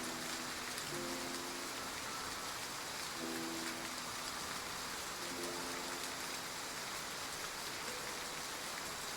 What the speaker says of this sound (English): We'll leave once the rain stops.